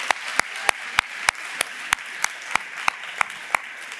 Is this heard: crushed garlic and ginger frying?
no